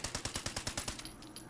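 Rapid bursts from the Fixer rifle in Fallout 76, about a dozen evenly spaced shots in quick rhythm, fairly close and crisp, then stopping, with no talk.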